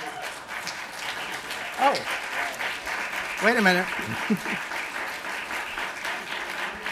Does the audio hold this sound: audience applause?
yes